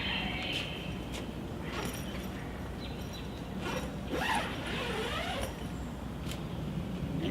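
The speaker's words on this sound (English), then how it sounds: "And now I'm going to open the door" The door of an inflatable paint booth opens with a zipper-like rasp, creaks and mechanical clicks, close and fairly loud, over a constant blowing hiss.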